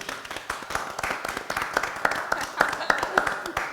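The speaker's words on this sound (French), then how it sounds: "On applaudit." Scattered clapping from an audience, light and uneven, with voices murmuring underneath.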